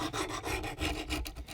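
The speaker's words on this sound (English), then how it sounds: "I need to get this about as good as I can with the 100 grit stone" Quick, rhythmic rasping strokes as a Wander Tactical Menoceras knife edge is reprofiled on a Wicked Edge 100 grit stone, close and steady, with no talk over the scraping.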